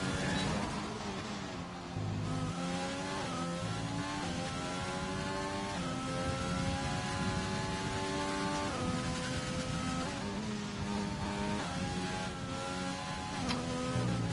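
Race cars in a sim racing game at the Brazilian GP, engines whining loud and continuous as they downshift through an uphill sweeping right-hander, the pitch stepping down and climbing again in overlapping layers.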